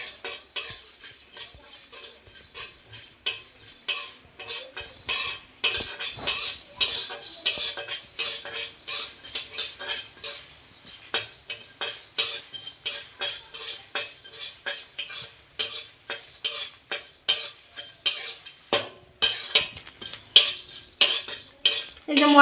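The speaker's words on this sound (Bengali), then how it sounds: "এটাকে আমি খালি কড়াইতে ভেজে নেব।" Whole coriander seeds and peppercorns are dry-roasted in an empty wok, a steady run of rattling, scraping stirs and small clinks repeating rhythmically at close range with no talking.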